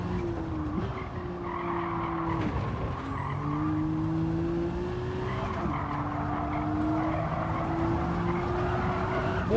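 A race car in Gran Turismo 7 slides at Spa with its tyres squealing in long wavering tones over a steady loud engine drone, continuous and close.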